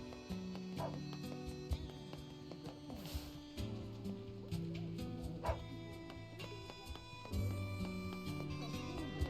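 Dog from NieR barking and yipping in a few short bursts spread across the clip, moderately loud over steady game music.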